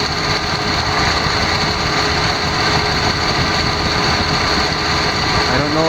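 Car engine idling steadily with the air-conditioning compressor clutch engaged, a continuous close mechanical drone with a faint repetitive ticking running through it, no voices.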